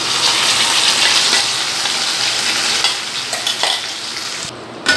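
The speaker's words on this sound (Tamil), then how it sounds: "இப்போது இதே கடாயில் நம்ம வந்து அரைச்சி வச்சுருக்கோம் இல்லையா, ஸோ அந்த மிக்சரை வந்து இதுள்ளே போடுவோம்" Ground paste frying and being stirred in a kadai, a steady broadband sizzle with scraping strokes throughout, easing off briefly near the end; no voices.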